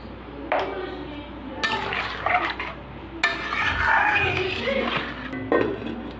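Water poured into a cooking pot of lata fish with ripe cucumber, in short splashing bursts with clinks of the pot and utensils, alongside a speaking voice.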